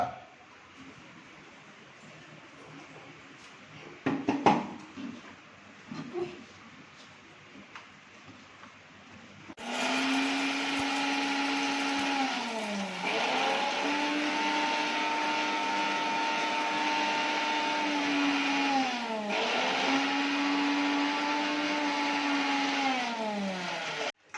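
A kitchen mixer grinder runs loud and steady as it grinds cumin to a fine powder, its motor whine dipping and recovering in repeated cycles after a quieter stretch of faint handling noise.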